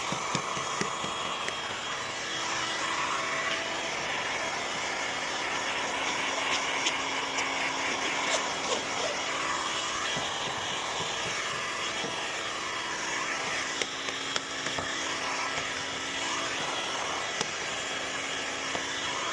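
Heat gun blowing a steady, loud whooshing roar while shrinking tint film on a car's rear window, continuous and unbroken with no talking.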